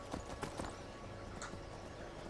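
Horse hooves clip-clop in Skyrim as a mounted player rides along a road, steady rhythmic hoof falls over a constant ambient game background, fairly quiet throughout with no talking.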